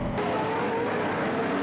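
Modified race cars roaring around a track in Madera, California, during a North State Modified Series event, a steady loud engine drone holding throughout with no break.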